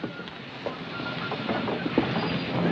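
A train sits at a station, a steady low rumble of rail cars with faint clanks and hiss, continuous and fairly loud, without talk.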